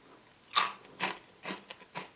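Cinnamon-flavoured breakfast cereal like Cini Minis crunched while being tasted, four sharp separate bites close to the mic in a quiet room, each a short dry crackle.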